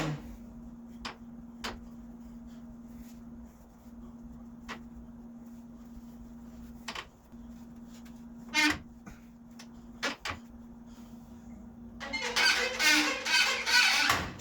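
The lower control arm of an IMCA modified race car squeaks in short, sharp, intermittent chirps and ticks over a steady low hum in a quiet workshop, ending with louder rustling handling noise.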